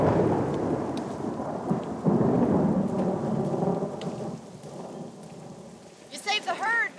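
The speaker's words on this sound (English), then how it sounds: "The storm's getting worse." A Red Dead Redemption thunderstorm: steady heavy rain with deep rolling thunder rumbling through the first half, fading to lighter rainfall, then a short burst of higher tonal sounds near the end.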